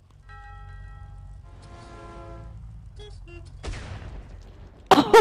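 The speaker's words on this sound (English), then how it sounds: "It exploded." A sudden loud explosion in the video game Crossy Road bursts at the very end, preceded by quiet tonal game chimes and beeps over a low hum.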